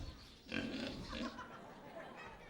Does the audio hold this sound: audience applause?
no